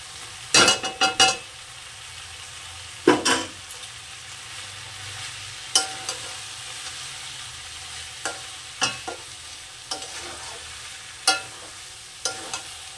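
Cabbage frying with fish head and ground spice paste with chilli, stirred in a pan: a steady sizzle with several sharp scraping stir strokes spaced irregularly throughout, close and moderately loud.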